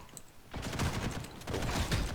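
Shotgun fire in the online shooter G.I.T.S.: First Assault bursts in after a quiet moment, a loud rush of blasts and clatter that fades briefly and then surges again.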